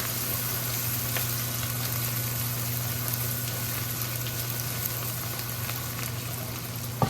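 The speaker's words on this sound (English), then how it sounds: "You have to let your ginger cook and your garlic together with your onions" Ginger, garlic and onions frying together in a pan, giving a steady continuous sizzle with a low background hum and no talking.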